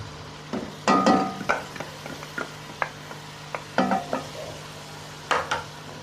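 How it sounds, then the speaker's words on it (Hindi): Beef kofta masala with yogurt being fried in a pan, a steady low sizzle with intermittent scraping stirs and light utensil knocks against the pan, close and alone without voices. "अब दही डाल के हमने इसको 5 से 6 मिनट तक इसको भूनना है"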